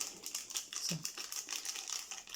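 Dry rustling and crinkling of a small 10-gram paper packet of vanilla sugar with light granular patter as half the contents trickle out, close and quiet.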